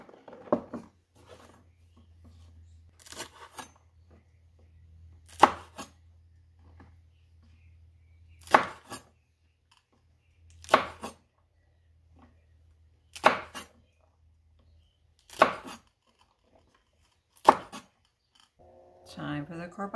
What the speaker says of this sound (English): I'm just gonna chop them up